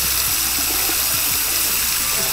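Running water gushes steadily from a tap while a kitten is washed, a constant close hiss with faint low knocks beneath.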